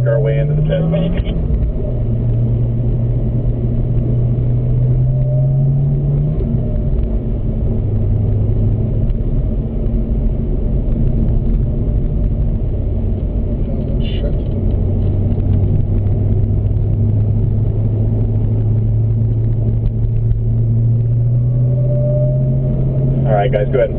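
A Corvette ZR1 race car idles and cruises slowly toward the pit at Spring Mountain, a steady low engine drone with shifting humming tones, loud and constant, while a voice talks over it.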